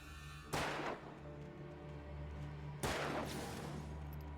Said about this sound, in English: Come on, shoot him.